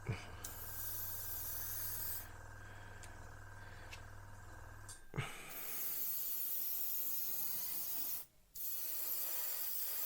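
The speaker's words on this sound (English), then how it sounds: "these Galeri airbrushes, they absolutely love Tamiya paint" A Galeri airbrush sprays Tamiya paint onto a Revell PBY-5 Catalina model, giving a quiet, steady hiss in long bursts with a low hum underneath at first and a brief gap near the end.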